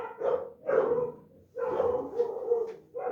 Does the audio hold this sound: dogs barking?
yes